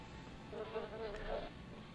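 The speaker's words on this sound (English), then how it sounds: "I hear bees, but I don't see bees." Steady bee buzzing hums throughout in the Power Rangers Lightspeed Rescue video game, rising and wavering slightly, with faint background game ambience.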